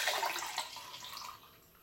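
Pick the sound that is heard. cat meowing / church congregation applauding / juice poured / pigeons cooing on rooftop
juice poured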